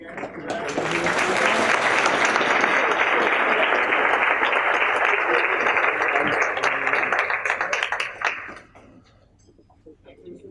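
A crowd at a high school board of education meeting applauds its conference-champion wrestling team with steady, loud, dense clapping for around eight seconds before it cuts off abruptly into quiet room noise.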